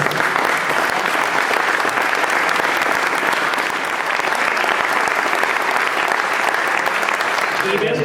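Dense, sustained applause from a large audience at a Compromís European primaries political event, steady and loud throughout with a faint murmur of voices beneath.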